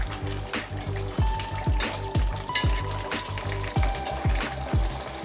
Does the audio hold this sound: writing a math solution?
no